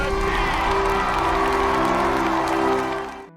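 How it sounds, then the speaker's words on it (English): An audience bursts into loud, sustained applause and cheering as a painting wins first place in a judged contest, the crowd noise steady over a held musical tone before cutting off abruptly. "the audience applauded"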